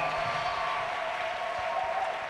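Applause from a church congregation during a French-language spiritual leadership course, a steady, moderately distant wash of clapping throughout a short stretch.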